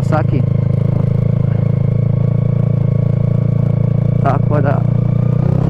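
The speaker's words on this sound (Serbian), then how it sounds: "Eto, hoću da vidim kako će ići Honda po snijeg" A Honda motorcycle with a fairly soft, mild engine rides through snow in January, its steady low engine drone running loud and continuous throughout, with brief clattering bursts near the start and end.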